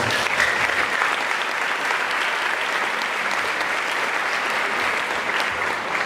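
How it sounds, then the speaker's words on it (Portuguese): Steady, sustained applause from a large church congregation, even and unbroken throughout, with no talking over it. "Dê uma salva de palmas ao Senhor."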